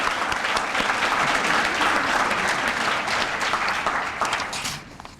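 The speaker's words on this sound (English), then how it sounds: "I think it's worth another round of applause for the great work" A dinner crowd at a historical society's annual dinner breaks into sustained applause, dense steady clapping that holds for several seconds before tapering off near the end.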